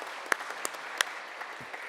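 Audience applause at a formal lecture welcoming guests, heard as a light, sparse patter of clapping with a few distinct sharp claps over a faint background.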